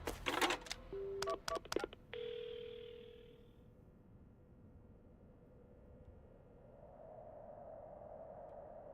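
Telephone keypad tones from the video game Paranormasight: a quick series of separate dialing beeps, a sustained tone, then a faint low hum that fades in as the line connects.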